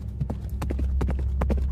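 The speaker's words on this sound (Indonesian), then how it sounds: "di situ terdengar lagi seperti ada suara kuda" A horse's hooves clip-clop in a quick, uneven run of sharp knocks, fairly close and loud over a low steady rumble, with no one talking.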